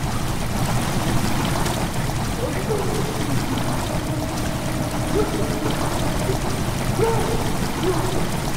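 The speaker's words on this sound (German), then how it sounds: "Wasser tritt langsam in die Kammer ein." Water slowly trickles and pours into a chamber in the horror game Amnesia: The Dark Descent, a steady low gurgling stream running continuously with no talk over it.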